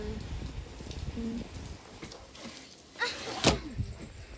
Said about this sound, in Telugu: బాగా వర్షం పడుతుంది ఫ్రెండ్స్.